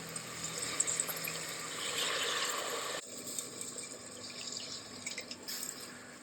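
Water runs and splashes into a cooking pot holding soaked rice and dal, a steady pour that cuts off abruptly, followed by lighter drips and clinks.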